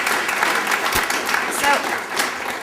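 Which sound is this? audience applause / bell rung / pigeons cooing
audience applause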